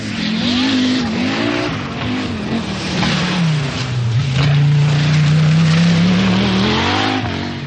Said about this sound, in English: And Malcolm Wilson in his private Quattro was very spectacular indeed.